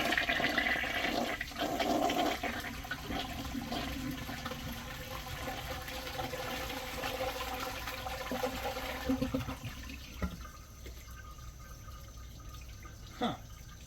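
A 1992 American Standard Cadet toilet flushes with a washcloth in the bowl: a close, rushing surge of water that settles into gurgling and trickling refill, ending with a faint knock.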